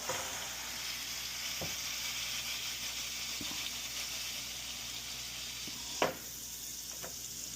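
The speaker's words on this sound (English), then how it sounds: "As you can hear the sizzle, there you go." Steady, close sizzling hiss of burger patties frying on a two-burner griddle, with a few faint scraping clicks and one sharper tap.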